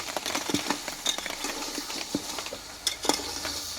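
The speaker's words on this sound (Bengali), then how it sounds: "আমি এইভাবে নাড়াচাড়া করে দেবো তলে লেগে যেতে পারে" Bengali mutton curry being stirred in a pan, with a scattering of soft scraping and clinking knocks from the spoon against the metal over a faint low sizzle, irregular and close by, no voices.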